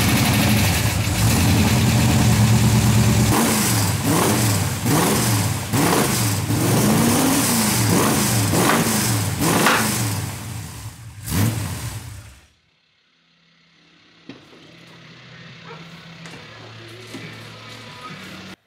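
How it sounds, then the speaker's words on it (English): Ford GT40 engine fitted with straight-through exhaust silencers, started and blipped through a series of loud, rising revs, then cut and settling into a quieter, lumpy idle for the final seconds. "get the car started up so you can hear what it sounds like"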